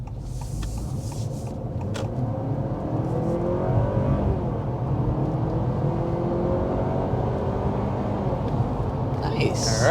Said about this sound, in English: let's go ahead and start off with a hard acceleration